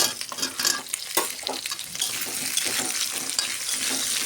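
Potato and papaya pieces frying in a pan, a dense steady sizzle with clattering stirring scrapes in the first half that settles into an even frying hiss, close and without voices.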